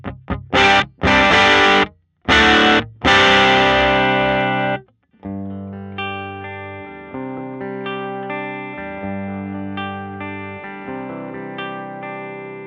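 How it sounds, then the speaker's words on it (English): Electric guitar played through a Tonkraf Phoenix amp set at the edge of breakup, starting with loud, hard-struck chords that grit up, then softer single notes and chords that ring out with slight overdrive. "So when I dig in, I get that nice edge of breakup sound I was talking about."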